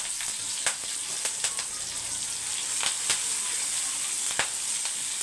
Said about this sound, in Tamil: நல்லா பொரியட்டும். பொரிஞ்சு வரும்போது தான் சூப்பராக இருக்கும் நம்மளுக்கு.